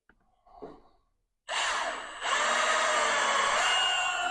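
A power drill drives screws with a thicker Phillips bit into the timber base of a 20 ft polytunnel greenhouse kit, whirring loudly and steadily after a breathy sound and a brief pause, with no talk.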